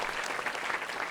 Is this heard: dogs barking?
no